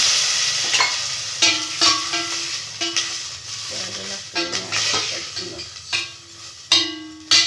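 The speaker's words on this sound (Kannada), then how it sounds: "ಒಂದು ಲೋಟ ನೀರು ಹಾಕೊಳ್ತಾ ಇದ್ದೀನಿ" Water hits a hot pan and sizzles loudly while making vermicelli payasam, followed by stirring and clinking with bursts of crackling hiss that rise and fall.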